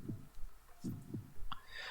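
A heartbeat of low, dull thumps, loosely paired and pulsing at a quickening pace, with faint higher tones near the end.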